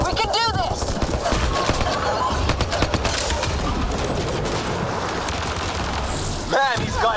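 Dense, sustained gunfire fills a combat scene in the video game Mass Effect: Andromeda, with rapid overlapping shots going on almost nonstop, and a few shouting voices mixed in.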